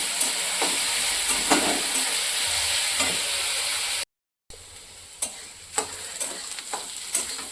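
Mushroom masala in a yoghurt gravy being stirred as it fries in a pan, a steady close hiss of sizzling with soft scraping strokes and a brief break midway, then clearer stir clicks.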